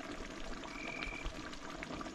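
Water poured into a pot of chicken biryani during cooking, a steady close trickling pour running under kitchen background noise with no speech.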